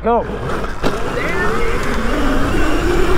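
Razor MX650 electric pit bike upgraded to 72v racing in a drag race, its motor whine rising steadily in pitch over a constant rush of wind and road noise, with voices calling out near the start.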